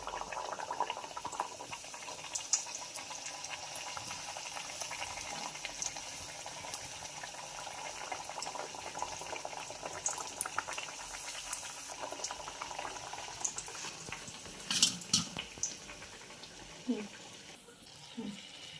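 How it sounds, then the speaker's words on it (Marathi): Anarse, a Maharashtrian sweet, frying in hot oil, with a steady bubbling, boiling hiss and a few clicks and scrapes of a utensil near the end; quiet overall, and a person speaks over it at times. "तर अशाच पद्धतीने आपण अनारसे तळून घेऊया"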